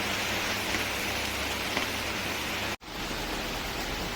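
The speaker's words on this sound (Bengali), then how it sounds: "আর বাইরের ওয়েদার যথারীতি বৃষ্টি হচ্ছে, ভালোই হচ্ছে বৃষ্টি।" Steady rain pours down in a dense, even hiss with a brief dropout partway through, no voices.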